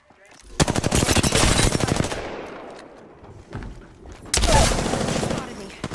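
Rapid automatic gunfire in the video game Apex Legends, a loud sustained burst of close shots, a pause with scattered single cracks, then another heavy burst.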